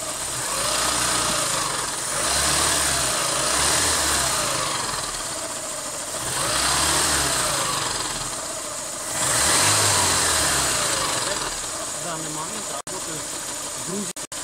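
VAZ 2108 car engine idling and repeatedly revved as throttle is added, several rising and falling surges over a steady idle, with someone talking over it.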